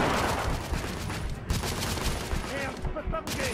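Rapid bursts of gunfire from the shooter video game The Order: 1886, a dense continuous fusillade of shots layered with action noise and brief voices throughout.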